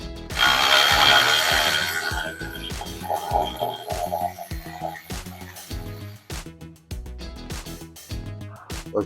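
Ratchet wrench spinning off a loosened bolt on a Toyota Tacoma brake assembly, giving a run of quick, close metallic clicks in rapid bursts with brief pauses between strokes.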